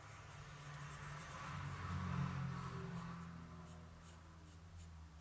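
Road traffic passing outside, a low muffled rumble swelling as a vehicle goes by then easing off, steady and distant beneath a quiet indoor setting.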